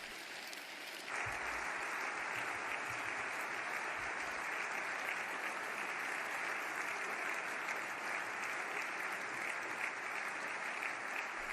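A crowd in the German Federal Assembly gives a standing ovation after the presidential vote result is announced. Dense, even applause begins sharply and holds loud and unbroken for about ten seconds, with no speech over it.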